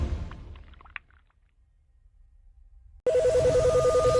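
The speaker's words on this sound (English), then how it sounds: "the NASA hotline is ringing off the hook" A telephone at the NASA hotline starts ringing after a moment of near silence, the electronic ring warbling rapidly and loudly right up close, continuous once it begins.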